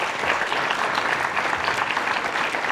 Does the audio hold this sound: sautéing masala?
no